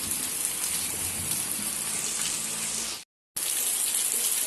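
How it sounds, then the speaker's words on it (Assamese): Heavy rain pours down steadily in the rainy season, a dense, even hiss of water close by with no voices, cut by one brief break near the end before the downpour resumes. "ইমান বেছি জোৰেৰে বৰষুণ দিছে"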